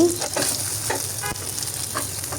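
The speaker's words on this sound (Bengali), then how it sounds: "উল্টিয়ে ভেজে নিচ্ছি" Egg slices fry in a hot pan and get flipped, a loud continuous sizzle close up with a few soft scrapes and taps of the spatula, no talking.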